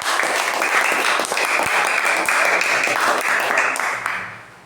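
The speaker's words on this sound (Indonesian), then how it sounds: "tepuk tangan dulu buat kelompok Melati ya." A class claps for the Melati student group in a classroom, a dense, steady patter of many hands sustained throughout before tapering off at the end.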